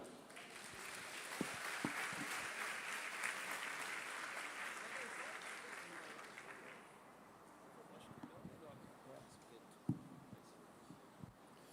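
A church congregation applauds to welcome a pastor, a broad wash of clapping that swells for several seconds and then thins out into scattered claps and a few thumps as the room settles.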